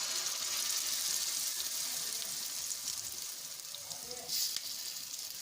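Steady sizzling and frying crackle of a tempering with sesame seeds and curry leaves throughout, with a brief louder burst near the end as handvo batter hits the hot oil.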